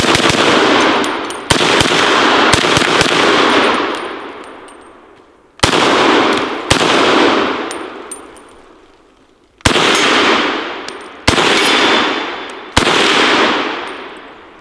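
An old rifle fires several rapid rounds, each a loud, sharp crack with a long ringing decay, about eight shots spaced unevenly across the stretch, with no talking.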